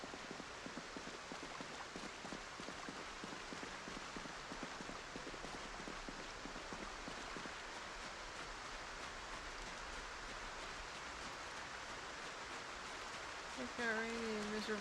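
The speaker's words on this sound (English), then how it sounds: "It got rainy and miserable." Steady rain falls in the video game Project Zomboid, an even, continuous hiss of drops on surfaces that stays faint and unchanging throughout with no clear break.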